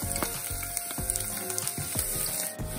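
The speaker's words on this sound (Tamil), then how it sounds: "இந்த உளுத்தம்பருப்பு, இந்த பெருஞ்சீரகம் எல்லாத்தையும் போட்டு கொஞ்சம் பொன்னுரமாக வதக்கி எடுப்பேன்" Urad dal and fennel seeds sautéing in a pan for a bitter gourd fry, a close, continuous light sizzle with scattered crackles and soft stirring scrapes, no voices.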